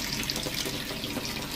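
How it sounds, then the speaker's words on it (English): Tap water runs steadily over garden leaves being washed in a sink at an organic no-dig allotment kitchen garden, a close, continuous hiss and splash with no talking. "I start to wash the leaves under the running water"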